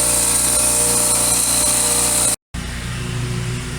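A grinder shaping metal for a pneumatic nut buster whines loudly and steadily with a bright high-pitched tone, cuts out abruptly for a moment, then resumes as a rougher, lower running noise.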